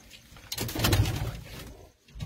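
Pigeons coo in a coop where their chicks are being raised, a close soft throaty call swelling in the middle of the short stretch with a faint knock behind it.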